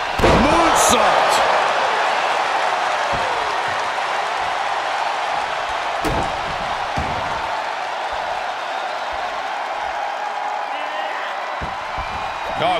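A wrestler lands a moonsault in the ring during a women's match between Lyra Valkyria and Io Sky, giving one sharp slam about midway through under a loud, continuous arena crowd roar and commentary.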